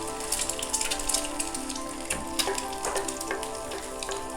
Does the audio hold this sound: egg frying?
yes